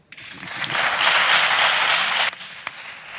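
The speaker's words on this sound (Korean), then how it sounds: "거침없이 일침을 날리는 그에게 큰 박수가 이어집니다." An audience bursts into strong applause after a speech about university politics in Madrid, a dense wash of many hands swelling quickly, holding steady, then cutting off with a few stray claps after.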